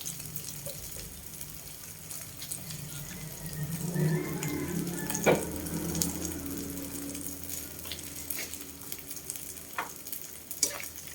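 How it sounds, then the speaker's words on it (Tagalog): Beaten egg for an omelette sizzles and fries in a pan, a steady close crackle with occasional stirring scrapes and clinks, no talking. "Ibuhos na natin ang ating egg."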